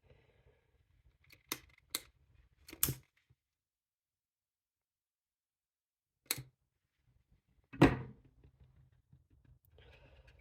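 Scissors snip loose threads from a fabric sling bag before folding and sewing, a few sharp close clicks spaced out across a quiet room.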